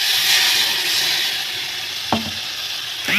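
Water meets a sizzling Bhola fish curry with mustard, fried down until it starts to catch, producing a loud, steady hiss broken by two brief scraping stirs, close up and without talk.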